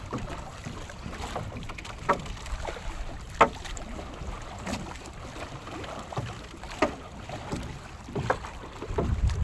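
A small fishing boat with four people aboard moves across open water near Sibuyan late in the day, with steady wind buffeting the microphone, low rumbling water noise and occasional knocks and splashes throughout.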